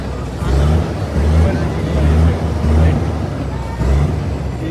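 Buses and cars idling and moving in a parking area near Raigad fort, a loud low engine rumble pulsing in repeated surges, with crowd murmur and voices underneath.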